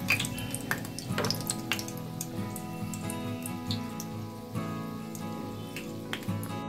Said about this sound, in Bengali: একদিকটা হয়ে গেছে, আমি আবার অন্য পিঠটা ভেজে নিচ্ছি